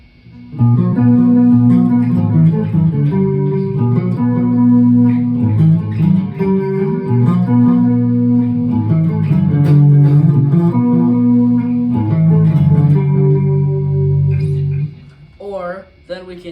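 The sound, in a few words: DIY electric guitar playing clean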